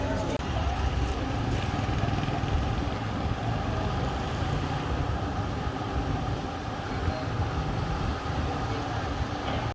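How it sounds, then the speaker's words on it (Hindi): Heavy rain pouring outdoors during a downpour, a dense continuous roar with low rumbling undertones, steady and loud without any break. "बारिश बहुत तेज़ है।"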